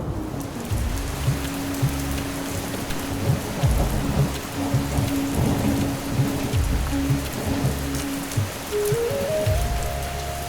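Heavy rain pours steadily in a thunderstorm, with deep rumbles of thunder rolling underneath the dense, continuous hiss of water.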